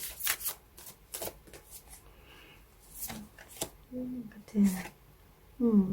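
Tarot cards are shuffled in several quick riffling bursts, crisp and close, separated by short pauses, with a voice speaking at times between the shuffles.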